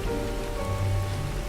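Steady rain pattering on a surface, a dense continuous patter with a low rumbling undertone, alone and fairly close, set as eerie ambience for a horror story.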